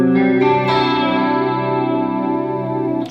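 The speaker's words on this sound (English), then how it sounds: "I have the Astra, which is the modulation, and I have it on the chorus sound." An electric guitar through an Astra modulation pedal set to chorus rings out one loud sustained chord, its shimmering, gooey wash filling the whole span before a brief new attack near the end.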